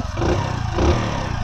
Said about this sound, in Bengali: ইঞ্জিন সাউন্ড যথেষ্ট পরিমাণ ভালো